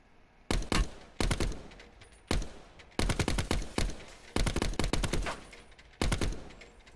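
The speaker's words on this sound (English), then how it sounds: "I don't even know where they're shooting from." Gunfire in Black Ops 4 Blackout: loud, rapid bursts of automatic fire come in repeated clusters with short pauses between them, sharp and close.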